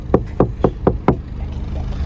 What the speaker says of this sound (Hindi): ये जो इसकी डैम्पिंग की हुई है ना, ये उसका साउंड है ये।